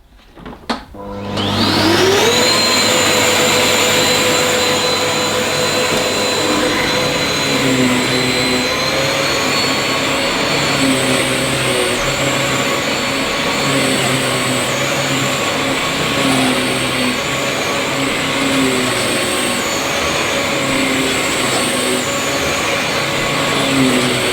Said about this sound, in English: I've opened up the suction vent, the manual vent on the handle, and I'll still try it in auto